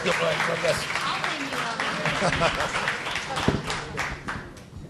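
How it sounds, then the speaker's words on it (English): Audience applause after a political talk, a moderate wash of clapping with some distinct individual claps, mixed with voices speaking over it and tapering slightly toward the end. "ladies and gentlemen, please give her a round of applause"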